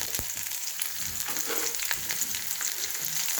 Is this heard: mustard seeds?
yes